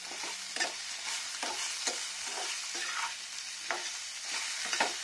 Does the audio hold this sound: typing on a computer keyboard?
no